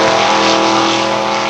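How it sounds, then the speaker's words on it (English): A 1980 Chevrolet El Camino launching at a drag race, a loud close engine roar held steady through the brief moment. "1980 Chev El Camino is off"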